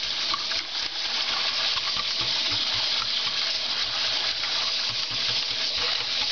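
Steady rushing water pours and splashes continuously, a broad hiss with faint clinks underneath, even in loudness throughout.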